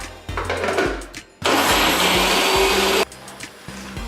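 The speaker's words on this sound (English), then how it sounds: "Place the peeled beans into the blender, a little at a time" A kitchen blender whirs through peeled beans and water in a loud burst of about a second and a half, sitting between quieter stretches of motor hum and clatter.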